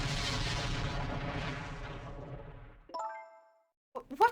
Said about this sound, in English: What in the world? An explosion!